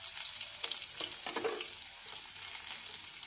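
Onion frying in a hot pan for a sabudana snack, giving a steady close sizzle with a few brief stirring scrapes.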